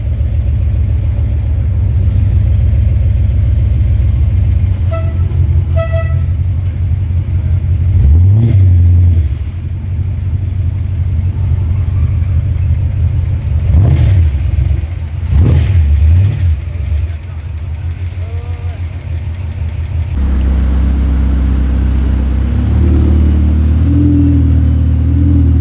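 A Bugatti Chiron Sport petrol engine runs loud and close, holding a steady rumbling idle broken by a couple of sharp revs, with a shift in tone near the end.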